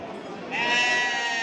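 Sheep and lambs at a small-livestock market in Çorum, Turkey, bleating in a dense chorus that grows louder halfway through, with market noise behind.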